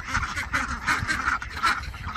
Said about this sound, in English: These are Ancona ducks.